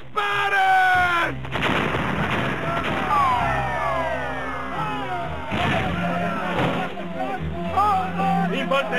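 Cannons firing in a battle near a river, heavy booming blasts repeating over several seconds, loud and dense, with shouting voices and battle noise mixed in.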